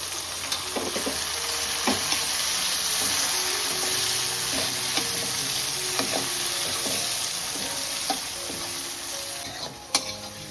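Tomato tossed into onion, garlic and green chilli sautéing in a pan gives a steady loud sizzle with scattered scraping stir strokes and clinks, no talk.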